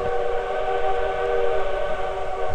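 A train rumbles steadily nearby, with sustained whistle or horn tones held over the low rolling noise throughout.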